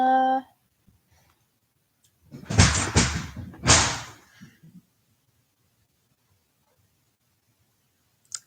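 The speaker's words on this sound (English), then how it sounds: "somebody knocked the gate down outside." A gate knocked down outside makes two loud, heavy crashing thuds about a second apart. A brief voice sounds just before them, and a faint tap follows at the end.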